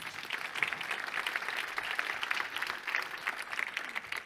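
Audience applause for panelists at an agriculture and public health panel discussion, a steady dense wash of clapping from a crowd that holds at an even level throughout.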